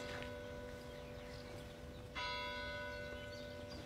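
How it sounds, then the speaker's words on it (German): Church bells ring out with a sustained, resonant tone, a fresh strike swelling partway through and lingering; no one speaks. "Hörst du die Glocken läuten?"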